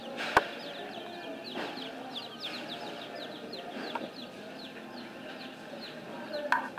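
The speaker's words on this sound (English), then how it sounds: "Just the little chicks." Small chicks peep in a brooder inside a farm supply store, a steady scatter of thin high cheeps from many birds close by, with a couple of sharp knocks and faint store background underneath.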